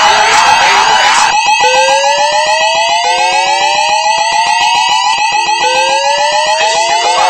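A shopping mall fire alarm sounds loud and steady, a wailing siren tone sweeping upward again and again with a layered electronic pulse, continuous throughout with no one talking.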